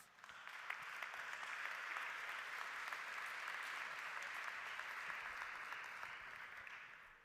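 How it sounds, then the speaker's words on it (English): Steady applause from an audience at the 2021 Hospitality Awards ceremony, with many hands clapping evenly for about seven seconds at a moderate distance, without a break and with no talk. "Let's give them a big round of applause."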